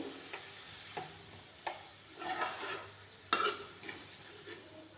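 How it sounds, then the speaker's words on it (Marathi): Carrots sauté in ghee at a quiet, soft sizzle, broken by scattered clinks and scrapes of a spoon stirring against the pan. "एक ते दोन मिनटं छान परतून घ्यायचं आहे तुपात"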